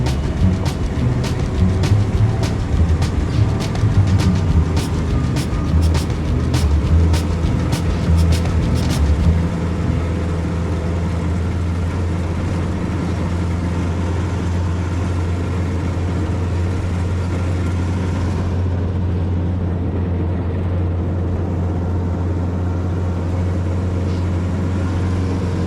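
An old Willys Jeep engine labours up a hill, a steady low rumble with rattling clicks over the first ten seconds, then a smoother continuous drone to the end.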